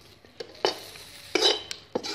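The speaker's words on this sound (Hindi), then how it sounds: "इहदे विच असीं हुण जिहड़े असीं बेसन भुन के रखिया सी उह पा लाँगे ते असीं इहनूं हिलावांगे अच्छे नाल।" A spoon stirs roasted gram flour (besan) in a pan, scraping in a few distinct strokes spaced about half a second apart, with metal clinks and no talking.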